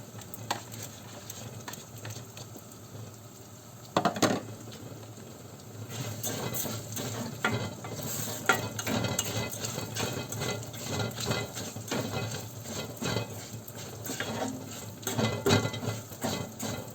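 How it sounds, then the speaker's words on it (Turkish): Rice is added to toasted orzo in a pot and stirred, producing soft grainy scraping and light rustling with a brief clatter early on, all fairly quiet and without talk. "Şimdi pirincimi ilave ediyorum"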